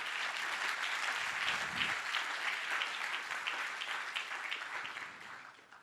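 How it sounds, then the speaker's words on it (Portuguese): An audience at a live stage show gives a round of applause, a full, even patter of many hands clapping together that gradually thins out over several seconds. "uma salva de palmas para as duas."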